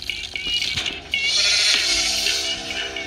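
A goat bleats in a video game: wavering, nasal bleats layered over game sounds, running continuously for a few seconds at moderate loudness.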